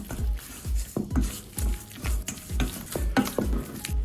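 Marinade of lemon juice, Kashmiri chili powder and salt being stirred vigorously in a bowl, giving a steady rhythm of wet, squelching mixing strokes with light clinks, close and fairly loud, with no talking.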